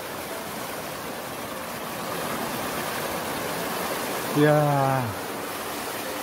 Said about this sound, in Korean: 폭포 봐, 폭포.